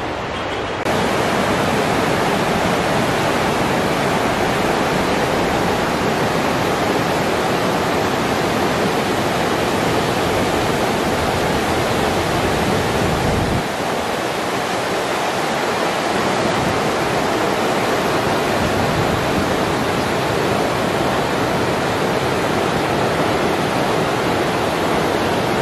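The Santiam River rushes steadily beside Whispering Falls campground in the Pacific Northwest forest, a loud, dense roar of water that fills the whole stretch without pause and drowns out everything else.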